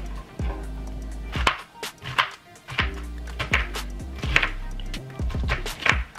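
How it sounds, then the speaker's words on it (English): A knife slicing a vegetable lengthwise into thin strips on a board, a run of crisp chopping thuds at a fairly even pace, close and distinct, with a low hum underneath. "you're gonna cut nice skinny little strands like this, all the way down"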